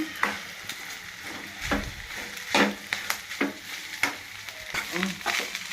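Mutton blood fry with masala frying and sizzling in a pan, with steady crackle and repeated sharp scraping stirs of a spoon against the pan, close and clear.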